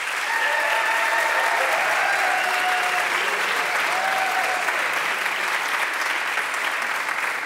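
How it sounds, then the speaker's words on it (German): Sustained, loud applause from an audience filling the broadcast hall of Vienna's Radiokulturhaus at a live music event, a steady wash of clapping with a faint cheer or two. "Applaus an dieser Stelle,"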